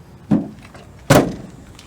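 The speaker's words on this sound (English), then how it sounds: "Door latches properly." A truck door is pushed shut twice during a Class B CDL pre-trip inspection, giving two separate solid thunks with a latching click, the second louder, with a quiet pause between them and no talking.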